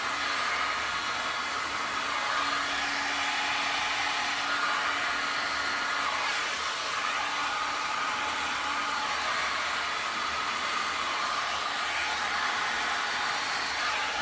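Steady, close airflow from a heat gun blowing across a resin bottle-bottom pour, a continuous broadband hiss that holds evenly throughout with no talk.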